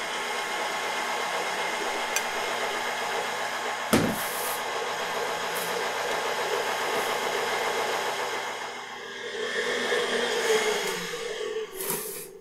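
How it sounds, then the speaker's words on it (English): A stand mixer churns Moravian sugar cake dough in a steady, continuous motor hum with a rhythmic beating texture, close and fairly loud, broken by a sharp knock near four seconds and a brief surge toward the end. "I'm going to put this on my mixer and I'm going to mix it until it's a smooth dough."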